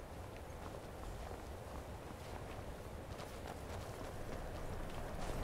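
A horse gallops in the video game Skyrim, making a quiet, rapid, continuous patter of hoofbeats that slowly grows a little louder, with no speech over it.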